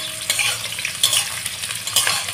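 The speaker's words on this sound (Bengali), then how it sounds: "পেঁয়াজ কুচিটাকে একটু বাদামি করে ভেজে নেব।" Chopped onion fries with five-spice and dried red chillies in hot oil, a dense close sizzle punctuated by a few scraping strokes of a spoon stirring the pan, no voices.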